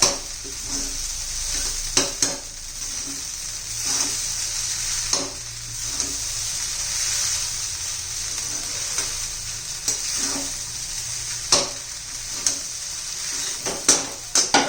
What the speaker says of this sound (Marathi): लास्टला कोथिंबीर घालायची व्यवस्थित मिक्स करायचा